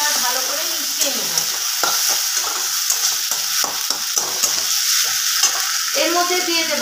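Spices frying in oil for an egg curry sizzle steadily in a pan while a spoon stirs them with repeated scraping strokes, close and continuous, with no talking.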